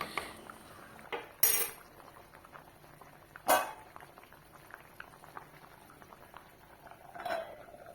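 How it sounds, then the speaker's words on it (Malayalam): Sardine curry simmers in a pot with a soft, quiet bubbling and patter, broken by a few sharp clinks and knocks of a utensil against the vessel. "നമ്മുടെ കറി ഇവിടെ മത്തിക്കറി തിളച്ച് എല്ലാം റെഡിയായി"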